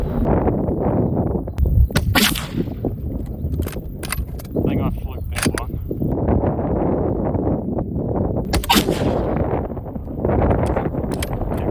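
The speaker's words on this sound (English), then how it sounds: "So, admittedly, I missed one shot, but there's a bullet hole here now" A Lee Enfield project rifle firing outdoors, several sharp cracks spaced a few seconds apart amid wind noise and rustling, with someone talking between shots.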